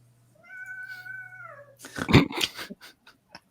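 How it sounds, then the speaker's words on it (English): An upset cat gives a drawn-out, wavering meow, followed by a harsher, louder caterwauling cry up close. A few short sounds trail off afterward. "Cat is upset."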